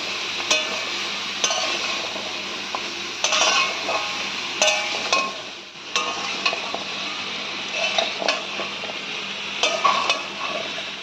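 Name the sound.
stirring vegetables with turmeric and salt in a pan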